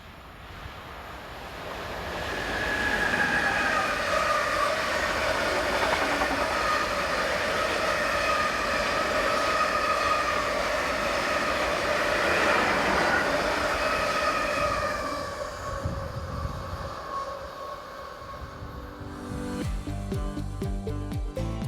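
A long freight train of VTG powder hopper wagons carrying aluminium oxide rumbles steadily past with a continuous roar of wagon wheels and some squealing tones, fading slightly near the end.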